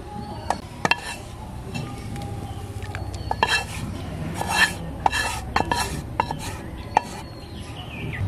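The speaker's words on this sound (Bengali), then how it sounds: "এখন আমি খাকরোল পাতাটা মিহি করে বেটে নেব" Roasted kharkol leaves being ground on a traditional stone slab with a stone pestle, heard as repeated close scraping and rubbing strokes with sharp knocks and clicks of stone on stone, over a quiet outdoor background with faint birds.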